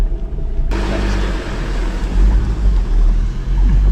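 A four-wheel-drive vehicle fords a creek crossing on an outback road, engine rumbling low beneath a continuous rush and splash of water, loud and close throughout.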